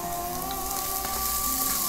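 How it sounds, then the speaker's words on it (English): Onions sizzle in hot grease as the base of a hearty stew, giving a steady, dense crackle with no voices. "Just dump some onions in some hot grease and let it go."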